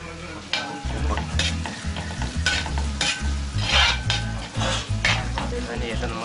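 Onions and shallots sautéed in a pan at a toddy shop kitchen, with constant scraping and stirring of a metal spoon against the pan over a busy sizzle, loud and close, with no talk.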